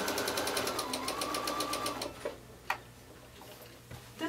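A sewing machine stitches a zipper seam in a fast, even run of close, quiet ticking needle strokes lasting about two seconds, followed by a few soft clicks and handling noises.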